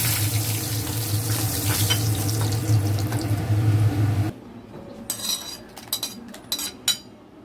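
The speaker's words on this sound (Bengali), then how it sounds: "এবার কড়াইয়ের মধ্যে একটু তেল দেব, তারপরে রসুন আর শুকনো লঙ্কা একটু ভেজে" Garlic and dried red chillies fry in oil in a wok with a loud, hissing sizzle that cuts off abruptly, followed by a few light clinks of a utensil.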